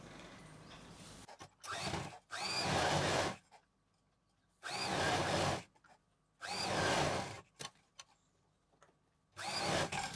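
A sewing machine joins both side seams of a bag made from old cloth, whirring in four or five short bursts separated by quiet pauses. The sound is faint overall.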